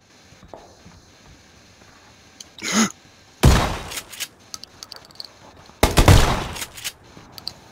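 Bursts of gunfire in the video game PUBG: a brief shot near the start, then two loud, dense volleys a few seconds apart, with quieter clatter in between and no talking.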